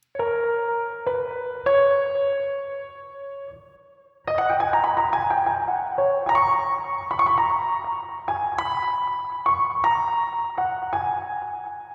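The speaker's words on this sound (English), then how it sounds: "I have one more additional piano." Solo piano melody of sustained notes and chords, starting sparse, pausing briefly, then continuing in a fuller, flowing phrase with no voices.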